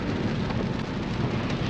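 Heavy rain pours steadily around an Infiniti Q50 while driving, a dense, constant hiss that fills the whole soundscape with no breaks and no voices.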